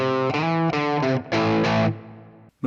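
Distorted electric guitar through a Fractal Brit 800 amp model on an FM3, FM9 or Axe-FX III, playing a loud, close run of chords with short breaks between strums, then trailing off.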